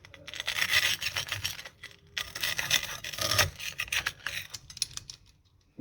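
Knife sawing through crispy toasted cheese bread, with repeated close crunching strokes in two bursts separated by a brief pause, and no voices.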